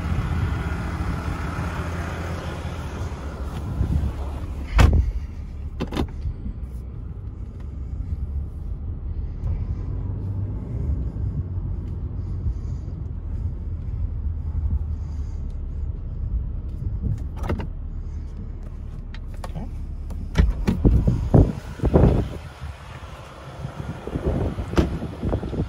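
A 2019 Ram 2500 pickup on air suspension pulls away towing a tilt deck trailer, with a steady low engine rumble and wind buffeting heard from inside, and a few sharp clunks and rattles toward the end.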